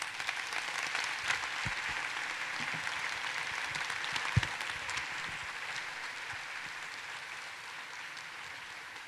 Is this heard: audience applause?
yes